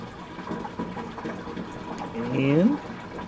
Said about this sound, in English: Water's inside the bell, is starting to flow over.